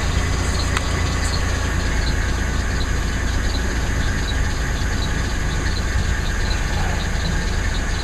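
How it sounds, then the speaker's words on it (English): Running 1999 Chevrolet Malibu engine with about 139,774 miles, just after a cold start in freezing winter temperatures, giving a steady close idle hum and broadband noise with faint high tones that may be the squeak. "And the squeaking is gonna start."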